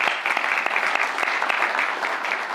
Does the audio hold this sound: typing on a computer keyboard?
no